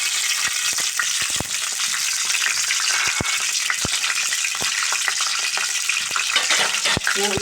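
Small sticks of cinnamon, a cardamom pod and cloves fry in a little hot oil, giving a bright steady sizzle punctuated by sharp pops and a few clicks of a spoon against the pan.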